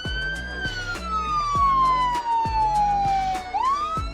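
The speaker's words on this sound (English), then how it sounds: "We can now turn on the sirens from inside the police car using this button." A police car siren wails in the BeamNG Drive driving game, a steady descending tone over a rhythmic pulsing engine or warning beat, loud and close with no talk.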